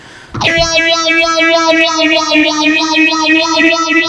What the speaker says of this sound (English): we're gonna add the phaser